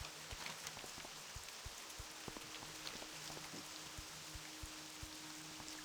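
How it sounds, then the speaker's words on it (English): Steady rain falls in the World of Warcraft game world, a soft continuous patter and hiss with scattered drops, heard alone at a low, even level. "It's raining at the time."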